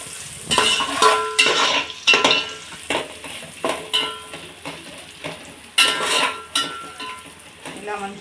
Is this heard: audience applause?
no